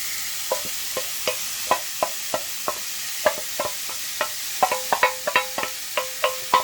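Lamb mince sizzles in a pan with a steady hiss, broken by regular scraping and clacking as a utensil stirs it, the strokes coming faster toward the end.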